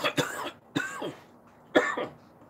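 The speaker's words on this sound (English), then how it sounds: "I've had this cough the past few days, and it's been really nagging." Three sharp, close coughs come in quick succession, each a harsh burst with a rough tail, separated by short quiet gaps.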